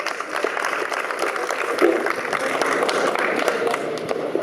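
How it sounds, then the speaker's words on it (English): A crowd at an outdoor political rally for an assemblyman claps steadily with a dense wash of applause, scattered louder claps and a faint murmur of voices underneath. "Give Tim a nice round of applause."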